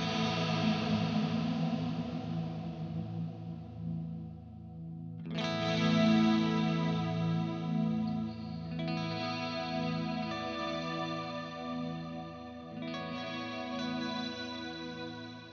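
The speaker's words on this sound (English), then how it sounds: "There's actually a modulation effect that you can add to it, which gives it quite a nice kind of 80s sound." Electric guitar through a Kemper Profiler reverb with a modulation effect added for an 80s sound: shimmering, chorused chords ring out and decay, with fresh strums around 5 and 13 seconds, alone without talk.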